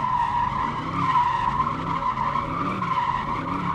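A Lamborghini SV drifts with its tires skidding in a loud, continuous screech that holds steady for a few seconds, close by.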